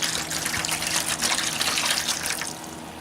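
Apple cider vinegar pours steadily from a large bottle into a container, a continuous close trickling splash that tapers off near the end.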